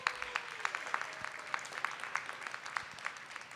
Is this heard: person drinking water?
no